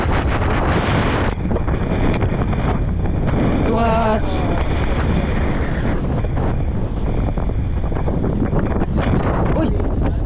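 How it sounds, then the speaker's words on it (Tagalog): Strong coastal wind at a fishing spot buffets the microphone in a loud, continuous roar with surf-like noise; a brief voice cuts through midway. "para marinig nyo lang ang lakas ng hangin sa part na yan"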